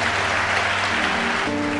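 A church congregation claps loudly and steadily for a couple of seconds, close and dense, with a low hum running under it.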